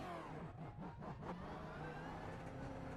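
A Ford Mustang GT4 race car engine in the iRacing simulator drones steadily under acceleration, a loud continuous rising growl with no gaps.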